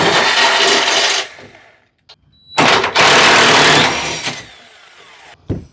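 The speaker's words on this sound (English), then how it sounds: "So now we'll move to the opposing frame rail. We'll remove the other 4 bolts." Power tool removing bolts from a vehicle frame rail, giving loud, close bursts of harsh rattling whir separated by short pauses, with a sharp metallic clink between them.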